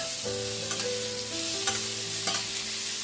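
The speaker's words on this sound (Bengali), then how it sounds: "আমলকিগুলো দিয়ে দিচ্ছি দিয়ে এগুলো ভালো করে নাড়াচাড়া করবো" Peeled amla, Indian gooseberries, stirred in a hot pan, with a continuous sizzle and a few scraping strokes of the spoon, accompanied by a steady low hum and no voices.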